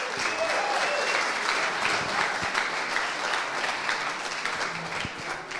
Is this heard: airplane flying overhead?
no